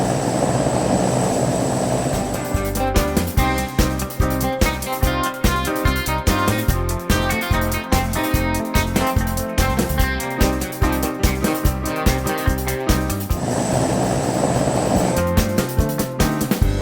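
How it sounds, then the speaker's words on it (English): A cargo plane's engine drones steadily at the start and again near the end, with upbeat music playing loudly in between. "Cargo plane."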